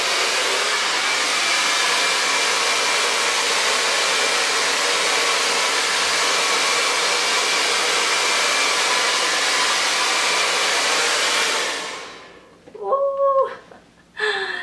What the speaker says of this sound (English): I'm gonna bring out my blow dryer now.